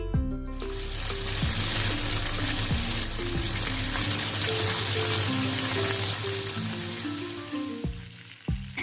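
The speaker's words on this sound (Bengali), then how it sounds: "আমি কতগুলো চিকেন এখন ভেজে নিচ্ছি। কম তেলে ভাজার চেষ্টা করছি" Chicken pieces fry in a small amount of oil with a loud, steady sizzle that fills the clip, while utensils and harmonic kitchen tones sound underneath before the sizzle drops away near the end.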